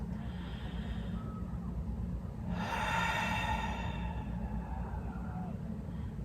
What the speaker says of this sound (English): Let's take a nice full breath.